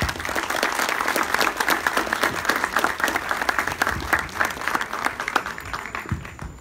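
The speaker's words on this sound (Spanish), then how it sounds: "Recibamos por favor a nuestros panelistas con un aplauso." An audience at a forum on Ecuador's communication law reforms breaks into sustained applause welcoming the panelists, dense clapping from a crowd filling the room before tapering off near the end.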